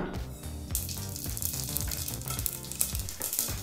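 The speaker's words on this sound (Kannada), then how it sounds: "ಬಿಸಿಯಾದಂಥ ಎಣ್ಣೆಗೆ ಸ್ವಲ್ಪ ಸಾಸಿವೆನ ಹಾಕ್ಕೊಳ್ಳೋಣ" Mustard seeds sputter and crackle in hot oil in a pan while cooking sambar, a dense continuous sizzle with sharp pops throughout, close and fairly loud with no talking.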